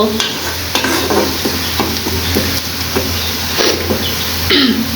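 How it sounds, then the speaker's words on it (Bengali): Hilsa fish cooking with taro stems in a village kitchen, stirred with repeated scraping strokes over a steady sizzle of frying, fairly close, with a low constant hum underneath and no talking. "আর আমি আজকে একটু ইলিশ মাছ রান্না করতেছি"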